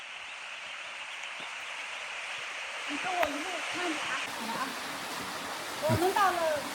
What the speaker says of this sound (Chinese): 对，这就是你要的瀑布。